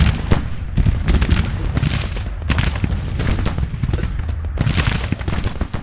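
Rapid-fire rifle volleys crackle in a Civil War battle in the strategy game Grand Tactician, loud, dense bursts of overlapping shots with brief lulls, heard alone.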